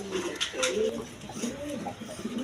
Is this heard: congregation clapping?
no